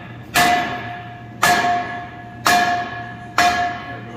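Four loud, ringing hammer blows about a second apart knock off a tack-welded steel bracket, each strike sharp and close with a metallic tone that decays between hits.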